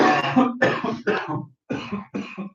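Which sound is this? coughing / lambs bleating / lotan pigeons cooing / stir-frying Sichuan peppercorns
coughing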